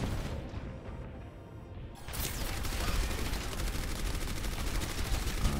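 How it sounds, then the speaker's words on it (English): Mercy firing her gun in Overwatch: after a quieter opening, rapid continuous gunfire kicks in and rattles on steadily for several seconds, close by and fairly loud. "Mercy was just shooting her gun next to me"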